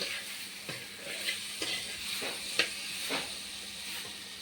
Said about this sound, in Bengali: এটাকে একটু নাড়িয়ে দেবো। নাড়িয়ে দিলাম।